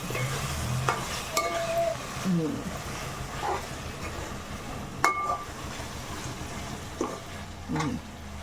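Chicken masala fries in a pan while a ladle stirs it, giving steady sizzling with intermittent scraping and metallic clinks, and voices occasionally talk over it.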